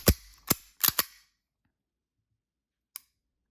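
Several sharp mechanical clicks from a Beretta 92 pistol's trigger resetting snap in quick succession, close and crisp, then silence and one more faint click a couple of seconds later.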